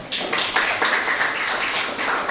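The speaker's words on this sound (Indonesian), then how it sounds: "Mungkin tepuk tangan dulu semuanya" An audience in a teacher-training class session breaks into applause, a dense, continuous patter of many hands clapping at close range for a couple of seconds.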